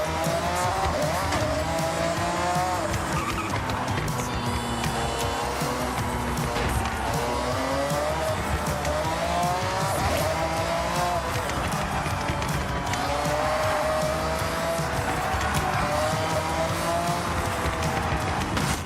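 A race car in a video game brakes hard, with sustained tire squeal and skidding over a continuous engine whine, loud and constant throughout, and a voice talking underneath.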